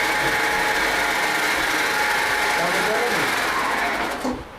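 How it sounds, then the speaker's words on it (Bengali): A sewing machine stitching a new mattress runs with a steady mechanical whir and rapid needle clatter, close and continuous, before cutting off near the end; faint voices sit in the background. "দর্শক দেখতে পাচ্ছেন এই যে সেলাই কিন্তু হচ্ছে তো সেলাইগুলো এভাবেই করা হয়"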